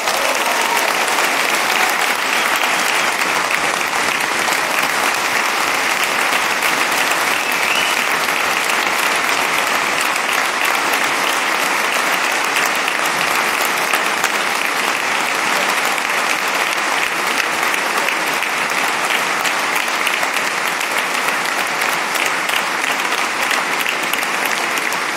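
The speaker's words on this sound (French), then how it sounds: "vous pouvez continuer à applaudir" A large audience at a political party's national council meeting gives dense, sustained applause that runs loud and even for about twenty-five seconds without a break.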